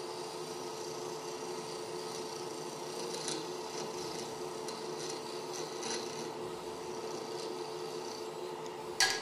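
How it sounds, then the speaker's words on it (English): A woodturning scraper rasps steadily against wood spinning on a lathe, producing a continuous, even grinding hiss at moderate volume with a few slightly sharper scraping accents and a small knock at the very end. "do a slight little scrape on here, like I did before"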